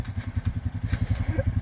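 A motorcycle engine pulses in a fast, even rhythm while riding in third gear, loud and close, with no talk over it.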